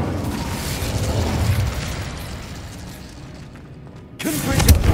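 Hogwarts Legacy's Incendio fire spell booms out in a video game battle: a rumbling blast fades over several seconds, then a sharp new fiery burst erupts loudly near the end.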